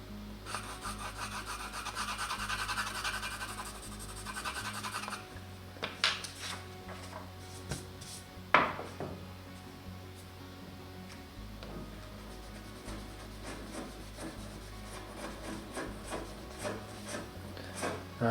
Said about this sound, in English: It sounds like he's back to sawing.